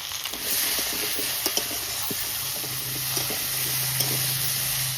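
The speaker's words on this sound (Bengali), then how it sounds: "লবণ আর হলুদ দিয়ে গাঠি ভালো করে একটু ভেজে নিই" Taro stems fry in hot oil with salt and turmeric, giving a steady, close sizzle and hiss that runs throughout, with light stirring taps now and then.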